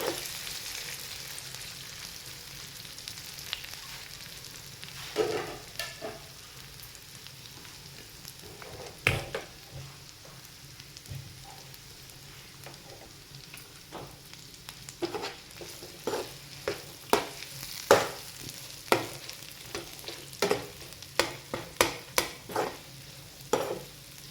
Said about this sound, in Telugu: ఇప్పుడు ఇందులోకి వేస్తున్నాను కాకరకాయ ముక్కల్ని దీన్ని ఇప్పుడు ఆయిల్లో మీడియం ఫ్లేమ్లో పెట్టుకొని ఫ్రై చేసుకోండి